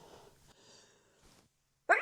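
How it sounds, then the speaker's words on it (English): A single sharp sneeze bursts out loudly near the end, coming after a stretch of faint background sound and quiet breathing. "I'm about to sneeze."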